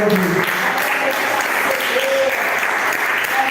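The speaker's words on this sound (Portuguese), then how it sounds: "dê uma salva de palmas para Jesus" A church congregation applauds steadily through the whole stretch, a dense wash of clapping that holds at even loudness, with faint voices and a sustained tone mixed underneath.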